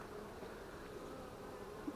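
Honeybees hum in a steady, close drone around frames of an apiary left untended for two years, the buzzing even and continuous with no talk.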